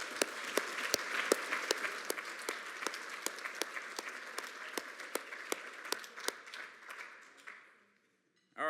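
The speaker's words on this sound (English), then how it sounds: "But let's still clap for her." Audience applause at an awards ceremony dinner, a smooth crowd of clapping with a few sharp nearby claps standing out, gradually fading out near the end.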